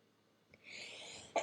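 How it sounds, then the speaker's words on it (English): A single sneeze, close and fairly quiet: a brief breathy intake, then a sharp burst at the end. "I think I'm going to sneeze."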